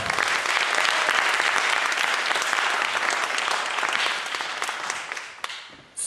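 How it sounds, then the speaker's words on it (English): Loud, sustained applause from a large crowd at a panel talk, dense clapping filling the space before tapering off near the end. "please give a warm round of applause to Dr."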